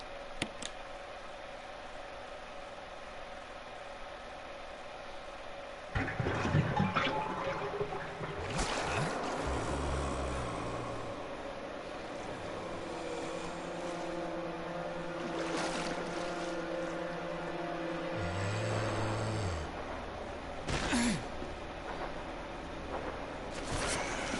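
Dirty water draining out after a plug is pulled in a Resident Evil horror game, a sustained watery rush and gurgle with low sloshing surges, moderately loud and continuous over a windy ambient background, with no speech.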